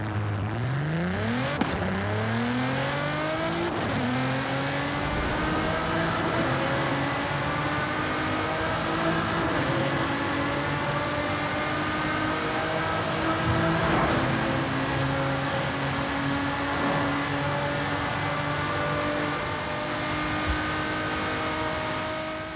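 Nissan GT-R Nismo R35 in a video game, its engine echoing through a tunnel as the revs climb and shift repeatedly in steady, loud acceleration pulls with gear changes, no talking throughout.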